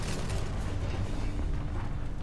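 A sustained, rumbling explosion from the Spider-Man: Miles Morales game, a dense roar of low booming and crackling debris that holds at a steady loud level throughout.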